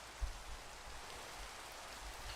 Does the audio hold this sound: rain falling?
yes